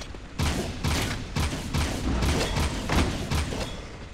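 Gunfire in a video game rings out as a rapid, steady string of roughly nine loud shots, each about half a second apart, with no voices over it.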